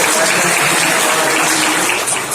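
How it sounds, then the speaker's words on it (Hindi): Audience at an annual general meeting in Pragati Maidan claps to welcome Goyal Sahab, a dense, steady wash of applause filling the hall and holding level throughout. "आदरणीय गोयल साहब के लिए तालियां बजा के स्वागत कीजिए"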